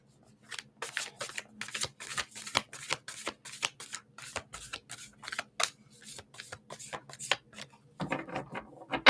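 A deck of ancestor oracle cards is shuffled in quick, repeated papery strokes, about twenty close together with brief gaps, then a flurry at the end.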